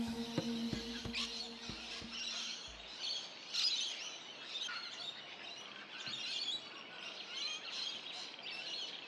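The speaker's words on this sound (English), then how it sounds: "Bird watchers in particular come here to see the abundance of birds." Faint wild birds chirp and call at Narrabeen Lagoon wetland on a cool autumn morning, scattered thin tweets over quiet outdoor ambience, after a few brief knocks at the start.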